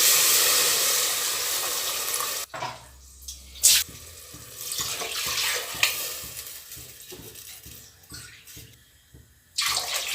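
Water splashes and pours into a cooking pot of tomatoes and tamarind water for tamarind pongal, a loud rushing stream that breaks into a few separate pours and stops, with no talking.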